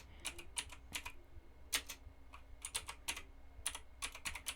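Rapid typing on a computer keyboard, with quick irregular clusters of crisp key clicks and brief pauses between bursts, close up against a quiet background.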